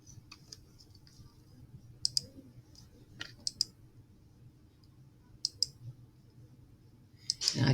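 A computer mouse clicks through links in a quiet room, with sharp, sparse clicks spaced irregularly, some in quick pairs, over a low background hum.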